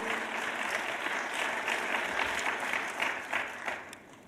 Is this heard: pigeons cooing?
no